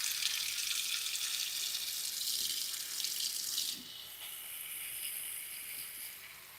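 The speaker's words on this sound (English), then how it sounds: "I'm just going to take a dish of warm water" Warm water running steadily from a kitchen sink tap into a dish, a close, even hiss that drops to a softer, thinner stream partway through.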